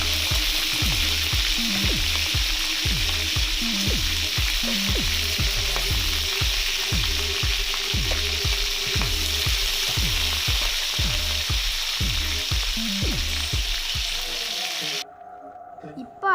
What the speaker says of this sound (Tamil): கருவேப்பிலை கொஞ்சம் பொரிஞ்சதும் சுத்தமான நண்டை அதில் போடணும்.